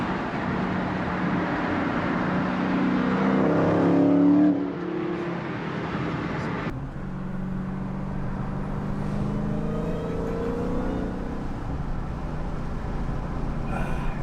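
A powerful Dodge Hellcat car engine rumbles and revs loudly, swelling to a peak, dropping off abruptly, then settling into a steady deep growl.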